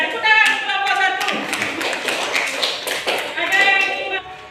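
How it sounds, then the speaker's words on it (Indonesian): A class claps for a student group after its presentation in a school lesson. Steady clapping runs the whole few seconds, mixed with classroom voices, and the harmonic voices are strongest at the start and near the end. "tepuk tangan kelompok 1"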